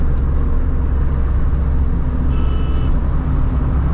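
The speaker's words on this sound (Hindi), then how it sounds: "तो बस विंड नॉइज़ है, थोड़ी बहुत रोड नॉइज़ है" Mahindra Bolero cabin noise while driving, a steady dense rumble of road and engine sound with some wind, loud and continuous without a break and no speech.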